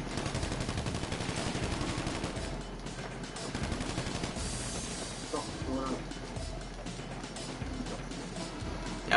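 Gunfire in the GTA 5 video game, dense bursts of shots and rapid automatic fire running steadily throughout at close range, with a player talking over it.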